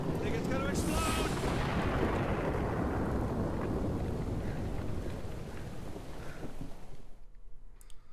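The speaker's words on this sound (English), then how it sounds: "I think it's gonna explode." An elemental exploding in Guild Wars 2, with a loud roaring blast that rumbles and slowly fades over several seconds before cutting to near silence, with faint voices underneath.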